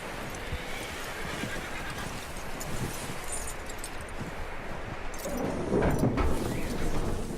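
A skittish horse in the video game Red Dead Redemption 2 neighs and shuffles its hooves amid rustling outdoor ambience, the whinny rising louder near the end.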